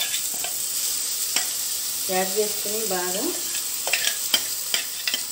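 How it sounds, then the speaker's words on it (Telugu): Ground ivy gourd chutney hits hot tempering oil in a pan, sizzling and frying steadily while being stirred, with a few sharp utensil clicks and a brief stretch of talking over it. "ముందుగా మిక్సీ పట్టుకున్న దొండకాయ చట్నీ యాడ్ చేసుకోవాలి"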